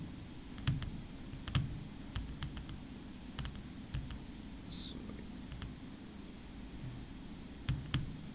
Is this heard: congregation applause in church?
no